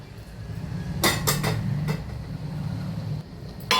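A lid is set on a pot of dal chicken simmering on low flame, giving a few close metallic clatters and clinks in quick succession, then a final knock at the end, over a steady low kitchen hum.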